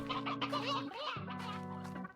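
Chickens in the video game Slime Rancher cluck and squawk in quick, busy bursts over a steady low droning tone, with no talking.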